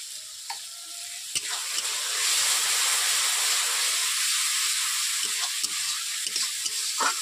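Spice masala of cumin and coriander powder stir-fried in a pan for a fish head recipe makes a steady close sizzle and hiss, with scattered clinks of a spatula against the pan.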